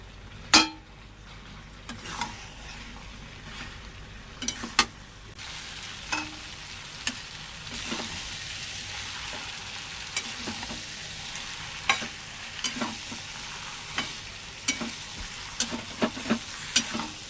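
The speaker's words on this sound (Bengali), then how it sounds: "এবার কষিয়ে নিয়েছি এবার এঁচড় ভাজা এঁচড়গুলো সব দিয়ে দিলাম" Fried jackfruit and shrimp in spiced masala stirred in a frying pan, a continuous close sizzle punctuated by regular sharp clacks of the spatula against the pan.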